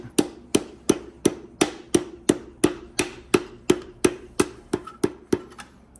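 Light hammer taps seat a piston into an Audi 3B 20-valve turbo engine: about fifteen crisp, evenly spaced knocks in quick succession, close and clear with no talking.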